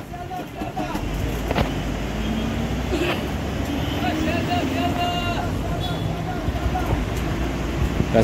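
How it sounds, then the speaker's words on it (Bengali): A BS6 Leyland Link Smart city bus with a 160-horsepower engine drones steadily on a Kolkata route, a continuous loud rumble mixed with road noise while someone talks over it. "ইঞ্জিনের যে সাউন্ডটা"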